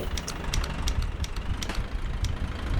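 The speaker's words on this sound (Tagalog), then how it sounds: "Masyado mahina makina natin." An RV engine idles with a steady low rumble and faint rhythmic ticking, fairly quiet and continuous with no talk over it.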